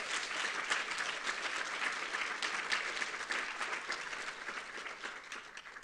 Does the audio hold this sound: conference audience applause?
yes